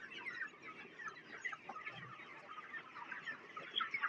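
Desi hens cluck in a small backyard flock during summer feeding, a busy, overlapping chorus of soft clucks and short calls, fairly quiet and close, with no voices.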